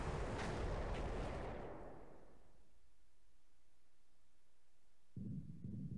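Bombs exploding during a naval raid on Palembang Harbor in the War in the Pacific video game, a heavy rumbling blast that decays slowly into quiet, followed by a second low burst near the end.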